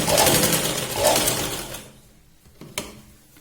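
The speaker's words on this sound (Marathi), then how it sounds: "शोल्डरला 3 ते 4 वेळा इथे शिलाई लावून मॅच करायची" A sewing machine stitches the shoulder seam of a katori blouse in a fast, steady whirring burst of nearly two seconds, then stops, followed by a couple of sharp mechanical clicks.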